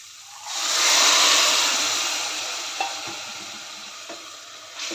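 Cooked pigeon peas drop into hot onion-garlic masala, setting off a loud surge of sizzling and frying that slowly tapers, with faint clinks of a spoon stirring near the pan.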